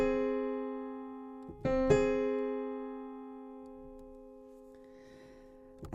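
A minor sixth interval sounded as sustained piano-like tones: a low note rings, then a second note enters and both decay slowly into quiet, close up and with no one talking.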